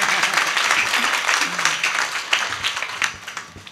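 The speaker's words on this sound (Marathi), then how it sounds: "जोऱ्याने टाळ्या वाजवा" An audience at a Marathi kirtan event claps loudly together, a dense burst of applause that rises, holds and then slowly thins out with scattered claps toward the end.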